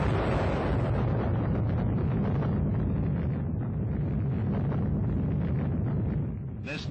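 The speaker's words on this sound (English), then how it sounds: "This nuclear test explosion is a graphic illustration of the power of the atom for peace." A nuclear test blast heaves millions of cubic yards of Nevada desert skyward, a sustained, dense roaring rumble that holds steady at full loudness and then eases slightly at the very end.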